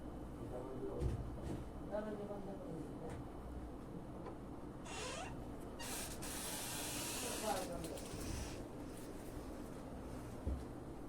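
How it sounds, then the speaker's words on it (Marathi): Paneer cubes frying in hot oil in a home kitchen, a steady soft hissing sizzle that continues throughout at low level, with a few brighter spitting bursts partway through and a voice talking over it. "आता इथे मी पनीर जे आहे त्याचे क्यूब करून घेतलेले आहेत व हलकसे मी तेलामध्ये ते सोनेरी रंगापर्यंत फ्राय करून घेणार आहे"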